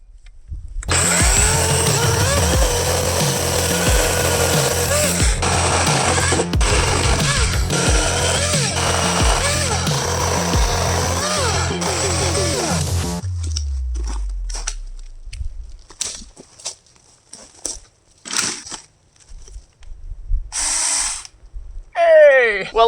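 A Tomyvic 6-inch mini chainsaw runs with a loud, high electric whine and chain rattle for about thirteen seconds before winding down, followed by scattered handling clatter and brief talk.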